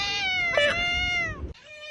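A cat meows in one long, drawn-out, wavering call that runs close and loud for about a second and a half, then breaks off, with a brief fainter trailing sound after it.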